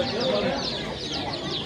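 Chickens and roosters cluck and call densely at a crowded poultry market in Navoiy, Uzbekistan, a continuous overlapping chorus with no clear single crow, while people talk nearby.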